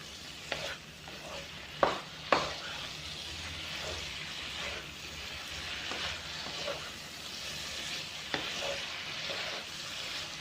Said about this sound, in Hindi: थोड़ी सी फ्लेम हाई करेंगे और 1 मिनट के लिए इसे अच्छे से भून लेंगे